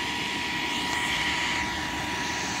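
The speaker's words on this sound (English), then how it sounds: "I only have one blower on it." A single electric blower inflates an Infl8 inflatable outdoor movie screen, producing a loud, steady, close-up roaring rush of air with no pauses or variation.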